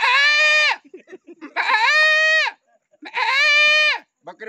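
A human voice imitates a goat bleating: three loud, drawn-out, wavering bleats separated by short pauses, with soft breathy sounds between them.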